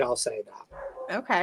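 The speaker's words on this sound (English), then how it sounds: "if you can hear the dog" A pet dog barks and yips in short bursts between bits of conversation, sounding close and fairly loud while people talk over it in an indoor setting.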